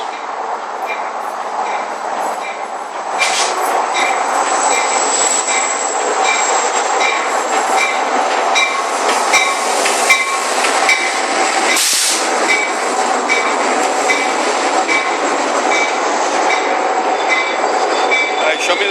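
A train rolls past with a loud, continuous rumble, wheel clatter and occasional squeals close by, staying strong for the whole stretch.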